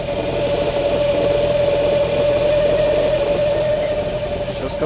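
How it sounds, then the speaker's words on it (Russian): A Ford Mondeo engine idles with the clutch pedal held down while a worn dual-mass flywheel knocks, a steady droning hum with a persistent tonal whine and a rapid rough rattle underneath, recorded close. "Вот такой стук."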